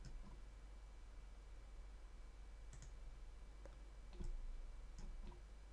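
Sharp computer mouse clicks while modelling a rectangular bottle lid in AutoDesk Inventor 2014, several isolated clicks spaced irregularly over a quiet, faint hiss.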